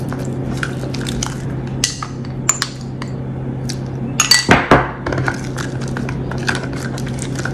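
Green tea facial paste being stirred with water in a bowl, giving scattered light clinks and scraping taps against the bowl with a steady low hum underneath, a few louder knocks clustered midway.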